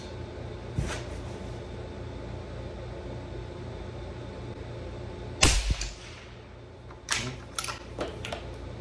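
Rifle shots fired while zeroing at 100 yards come as a few sharp, separated cracks over quiet outdoor ambience. The loudest shot lands near the middle, followed by fainter bursts.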